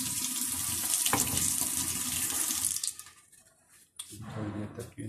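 Tap water pours steadily into a pot of spicy homemade rice for boiling, a loud hissing splash that runs for several seconds, then thins out and briefly returns.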